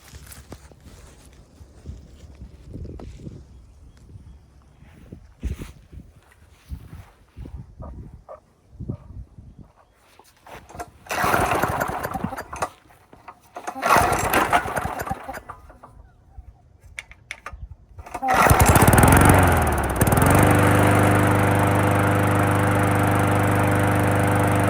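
A vintage 1970s Toro lawnmower with a Briggs and Stratton engine is pulled a few times, then fires and settles into a loud, steady running drone after scattered handling noises.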